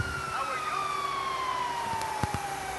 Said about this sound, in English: And there's another police car.